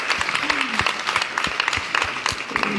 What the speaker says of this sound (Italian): anche un applauso a Sara, se si vuole alzare